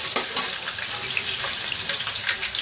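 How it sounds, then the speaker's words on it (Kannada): Chopped ginger and garlic fry in hot oil, giving a steady, fairly quiet crackling sizzle with scattered pops and no voices. "ಆಯಿಲೆಲ್ಲ ಬಿಸಿ ಆದಮೇಲೆ ಒಂದು ಅರ್ಧ ಇಂಚಷ್ಟು ಶುಂಠಿನ ಸಣ್ಣದಾಗಿ ಕಟ್ ಮಾಡಿ ಇಟ್ಕೊಂಡಿದ್ದೀನಿ, ಅದನ್ನು ಹಾಕ್ತಾಯಿದ್ದೀನಿ"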